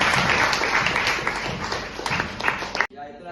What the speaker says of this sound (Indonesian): Ya, tepuk tangan untuk teman-teman kami.